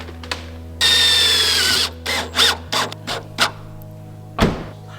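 A power tool drives screws into a Nissan S15 bodykit panel in a long whirring burst, followed by several shorter, punchy bursts. It is close and loud, with no talking.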